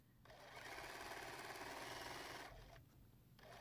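A sewing machine runs steadily, stitching a quarter-inch seam that joins sashing to a row of a T-shirt quilt. The motor hums loud and continuous for about two seconds, then slows and stops with a few brief bursts near the end.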